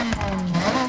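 A steady, raspy engine drone holding a fairly even pitch with a slight dip and rise, a drift car with race exhaust revving in Forza Horizon 6.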